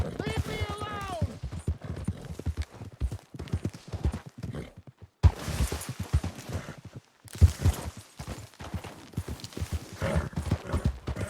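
Galloping horse hooves clip-clopping in Red Dead Redemption 2, a steady rapid rhythm running through the whole stretch with a whinny near the start, mixed with game voices talking and shouting over the top.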